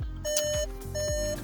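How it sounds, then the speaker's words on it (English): A Skoda Fabia's door-open warning chime repeats in steady electronic beeps, a regular pulsing tone heard close inside the car cabin under a low hum. "beeping away at me because my door's open"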